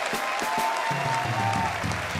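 A crowd applauds with dense clapping throughout, while a voice speaks briefly over it.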